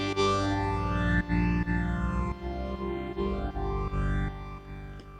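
A synth runs through a Boss SL-2 Slicer pedal set to slice with phasing, giving a choppy, rhythmically gated tone with sweeping phaser swirls, played loud and close, sustained chords pulsing in even stutters without any voices.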